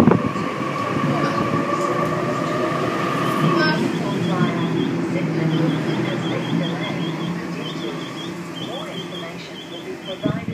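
A Sydney train pulls away from a platform at Bankstown station, its steady rumbling drone and rail noise filling the scene, with a rhythmic series of beeps and a brief clank partway through.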